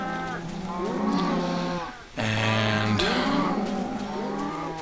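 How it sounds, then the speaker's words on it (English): Cows mooing in the video game Minecraft, two close, loud, drawn-out moos one after another with a brief pause between, with a voice faintly at the start. "see if I can't get all of these cows penned off in pairs like that"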